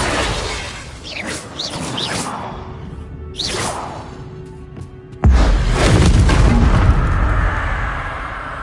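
A Confringo spell in the Hogwarts Legacy video game whooshes through the air, then erupts into a sudden loud explosion that rumbles on for several seconds.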